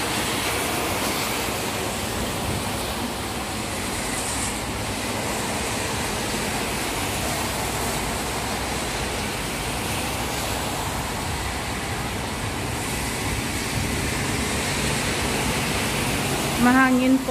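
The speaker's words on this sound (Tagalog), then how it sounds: "Mahangin po ngayon dito guys." Strong typhoon wind roars steadily during a signal 8 storm in Hong Kong, a constant broadband rush that stays loud throughout, with no clear voices over it.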